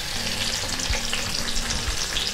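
Chopped onion hitting hot oil in a South Indian kitchen pan, a loud, dense sizzle with crackling spatter and a couple of soft stirring knocks, close and continuous with no talking.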